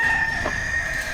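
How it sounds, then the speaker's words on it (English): Gold common hen in a chicken coop giving a short, close vocal call over a steady high background hum, brief and fairly loud with no talking. "there's one of these hens, one of these gold common hens that's just dying to be a mother"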